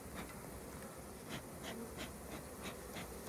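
Honey bees swarming around an opened hive during a pre-harvest inspection, heard as a faint, continuous buzzing drone with bees repeatedly zipping past close by.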